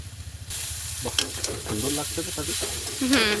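Chow mein noodles stir-fried in a pan in a rural Bengali village kitchen, a steady loud sizzle with repeated scraping stirring strokes that start after a brief quieter moment.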